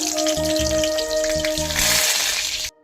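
Garlic cloves spit and crackle in hot oil in a wok with a dense, close sizzle. A spoon scrapes rhythmically through it before the sound cuts off abruptly, and no one speaks.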